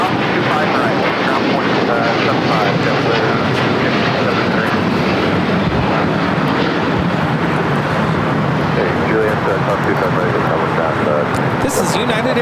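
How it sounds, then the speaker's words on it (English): Alaska Airlines flight 1348 jet taking off from the south side at Los Angeles International Airport, a loud continuous engine roar at steady strength, with people talking over it. "And our next takeoff here on the south side is Alaska Airlines flight 1348."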